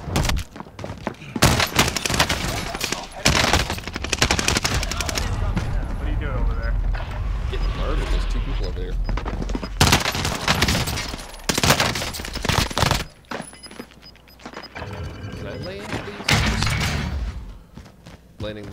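Gunfire in the video game Call of Duty Modern Warfare: repeated loud bursts of shots and heavy thumps through the match, with mechanical clatter between volleys and voices talking underneath.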